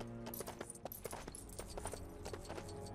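Horse hooves in the video game LEGO The Lord of the Rings clop quickly in an irregular galloping rhythm, sharp close impacts over a low steady background hum.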